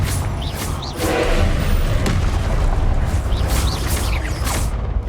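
A Confringo fire spell from the Hogwarts Legacy video game erupts in a loud, sustained blast that rumbles on for several seconds, with faint whooshing spell effects layered over it.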